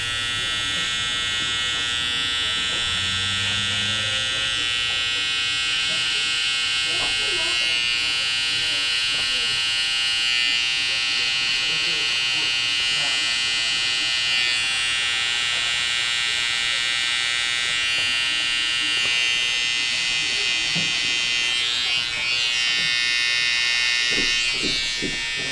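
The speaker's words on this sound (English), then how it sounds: "So I start with my FX trimmer to put the initial line in" An FX hair trimmer buzzes continuously as it cuts the initial line of a high skin fade in a barbershop, a close, loud, steady whine with small shifts as the blade moves around the head.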